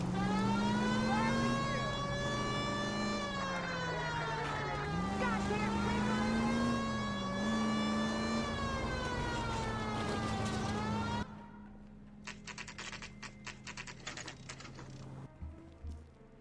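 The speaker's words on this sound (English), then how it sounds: "Turn on the siren." A police car siren in the video game L.A. Noire wails loudly and steadily, rising and dipping for about eleven seconds, then cuts off, leaving quieter, rattling background sound.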